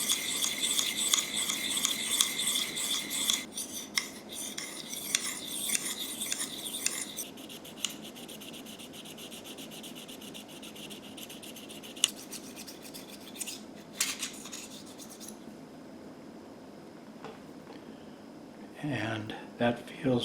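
Arrow shaft cutter blade being honed on medium and fine sharpening grits, repeated scraping strokes in a steady rhythm for the first seconds, then quieter sparse rubbing and a few final strokes, close and clear.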